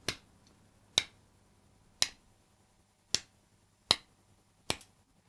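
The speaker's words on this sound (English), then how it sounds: "here I'm going to make this by clapping together these two HDMI couplers" Two metal HDMI couplers clapped together six times as a visual sync mark, each a sharp, bright click spaced about a second apart, close and clear against a quiet room.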